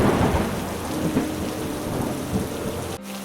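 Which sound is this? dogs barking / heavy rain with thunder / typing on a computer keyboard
heavy rain with thunder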